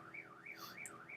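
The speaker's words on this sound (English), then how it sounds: "Someone's car alarm is going off," A car alarm going off outside, its siren sweeping up and down in a rapid repeating wail, faint and distant, with no talk over it.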